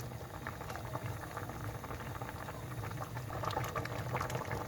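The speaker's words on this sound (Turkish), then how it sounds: "Reçelim böyle kaynıyor" Thick dried fig jam bubbling steadily in a pot, a dense continuous blip and pop of boiling close up, with no one talking.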